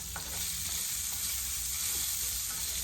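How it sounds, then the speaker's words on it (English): Onions and shallots fry in about two tablespoons of olive oil, a steady close sizzle with faint crackles throughout. "And now I'm going to go on and add the onions and the shallots."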